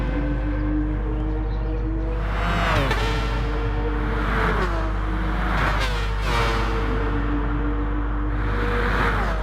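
SRT race car in a racing video game, engine droning steadily with repeated rising gear-change sweeps as it powers down the straight, a constant low hum beneath.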